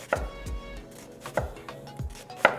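A knife slices through an onion on a cutting board, several sharp, irregular knocks on the board with short gaps between them, close and clear, with no talking.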